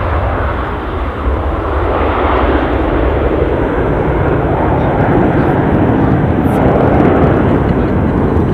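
An Aer Lingus ATR turboprop on final approach at Edinburgh airport gives a loud, steady engine roar that builds slightly and stays continuous throughout.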